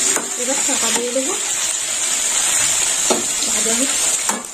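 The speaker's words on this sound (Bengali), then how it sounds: "ভেন্ডিগুলো এবার ভেজে নেব" Cut okra fries in a pan with a constant, close hiss and crackle, while a person talks over it in short bursts.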